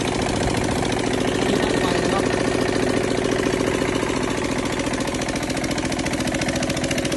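A Kubota 9.5 hp straight-shaft diesel engine, Japanese original, runs at a steady, loud idle with a dense, even mechanical chugging throughout.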